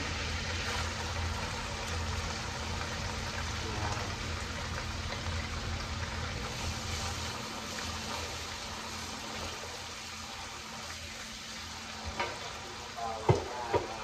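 Garlic frying and being stirred in a pot for menudo, a steady broadband sizzle running throughout with a few sharper clinks of a utensil near the end, close and fairly loud with no talking.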